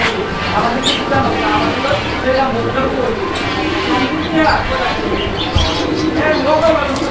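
Soft pigeon coos and chirps come through a busy, crowded background with people talking nearby throughout.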